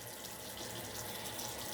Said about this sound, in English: just have water running